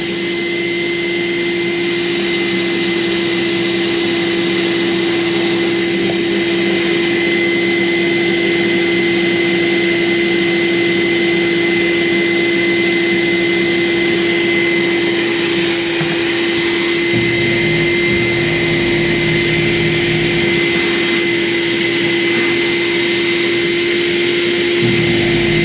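Pacific Steamex Genius carpet cleaner motor running steadily with the brush roll off, a loud continuous whine and airy roar with a sustained tone, shifting slightly partway through.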